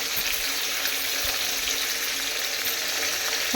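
Potatoes fry in a pan with oil, giving a steady, close, even sizzling hiss that holds without a break for the whole stretch, with no voices over it.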